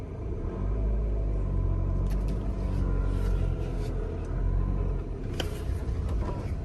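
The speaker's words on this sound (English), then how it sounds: "So that's how the car moves forward." A manual transmission car pulls forward with a steady, close, low engine and road rumble that holds at an even level, with no talking.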